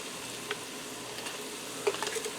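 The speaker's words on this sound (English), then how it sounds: "I'm going to add in about 2 cloves worth of garlic" Browned ground beef with a couple of cloves of pre-diced garlic sizzles steadily in a Ninja Speedi, a soft broadband hiss with a few light stirring clicks and scrapes near the end.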